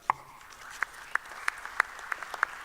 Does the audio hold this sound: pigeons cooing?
no